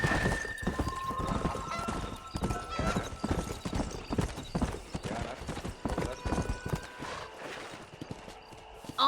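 Horse hooves galloping in Red Dead Redemption on PS3: rapid, loud, steady clip-clop beats run throughout, joined by whinnies and faint background game sounds.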